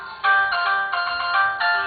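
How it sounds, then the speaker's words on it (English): A mobile phone ringtone plays a steady electronic melody of repeating bright notes, clear and fairly loud for nearly two seconds, with no voices. "Sorry, that's my phone."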